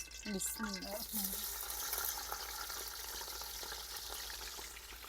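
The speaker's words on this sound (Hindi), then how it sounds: "इसमें डाल दिया है कुकिंग ऑयल। और अब हम ना इसमें डाल देंगे प्याज।" Onions go into hot cooking oil in a kadhai on the stove, and a soft, steady sizzle follows. A voice talks briefly at the start.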